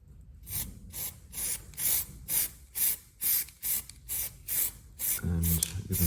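Aerosol paint is sprayed in a series of short hissing bursts, about ten in quick rhythm, as a coat goes onto the inside of motorcycle auxiliary light housings, close and fairly loud, ending in a longer burst with a low rumble.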